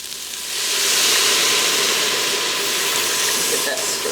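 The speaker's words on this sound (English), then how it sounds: "now I'm going to add the broth" Broth poured into a hot pot of vegan okra soup sets off a loud, steady sizzle and hiss that rises within half a second and holds through to the end, with no talking.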